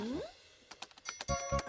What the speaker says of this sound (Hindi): कमला जी तो बहुत फास्ट कंप्यूटर चला रही हैं